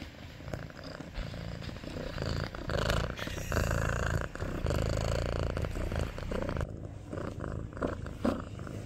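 A pet cat purrs close by in a continuous, rumbling, steady purr, loud and uninterrupted.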